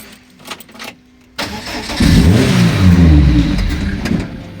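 A Lotus Elise sports car with a no-start fault has its engine fire up after a quiet stretch and a few clicks, then run roughly and loudly at close range before fading as it stalls.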